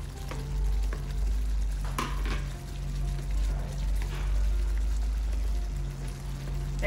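Potato and cauliflower gravy bubbling in a pan, a soft continuous sizzle and simmer with occasional small pops and stirring scrapes, close and fairly quiet with no talk.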